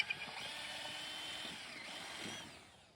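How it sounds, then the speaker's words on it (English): A power drill bores halfway into a wooden fence post for an H-brace, a faint, steady whirring grind lasting a few seconds that tails off toward the end, with no voices. "only drill about halfway into that post"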